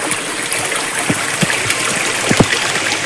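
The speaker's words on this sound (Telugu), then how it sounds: "పైన కొండల నుంచి వస్తున్నాయి ఆ వాటర్" Hill spring water streaming down from the hills, a close, steady rushing flow with small trickling splashes and faint drips throughout, no voices.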